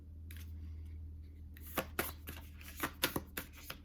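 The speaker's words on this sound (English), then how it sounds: "I'm going to cut this in half because it's kind of fat and it's hard to hold them all" A tarot deck is cut and shuffled close up: after a quiet stretch with a low hum, a series of sharp riffling snaps and card slaps arrive in quick bursts, with no talk.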